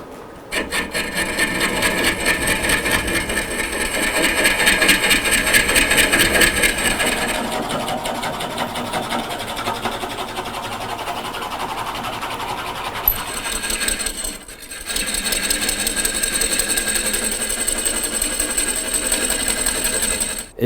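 A cutter hollows a crotch-wood pot on the lathe, giving a steady, loud scraping and rubbing with a shift in tone partway through, one brief pause near the three-quarter mark, then continuous cutting again.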